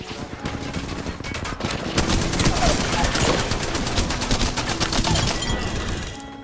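Rapid, sustained automatic gunfire crackles through a gunfight in the battle royale game Apex Legends, dense bursts of shots loud and close with barely a pause.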